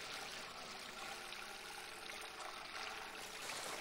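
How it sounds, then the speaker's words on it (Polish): Water drains away steadily in the Lego Harry Potter video game's Forbidden Forest level, a continuous rushing trickle at even, moderate loudness throughout, with no talking over it. "O, woda schodzi."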